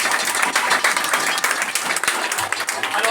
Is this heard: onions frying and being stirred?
no